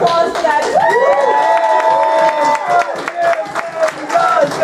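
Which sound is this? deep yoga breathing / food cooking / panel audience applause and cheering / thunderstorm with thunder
panel audience applause and cheering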